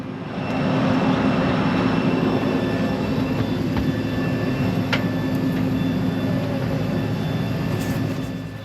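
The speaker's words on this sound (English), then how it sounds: "So this is what it's like on board a Tez Jet Avro RJ85." Steady, loud cabin drone inside a Tez Jet Avro RJ85, a small 90-seat four-engine regional jet in Kyrgyzstan, with a constant hum and rumble filling the snug cabin and a few faint clicks.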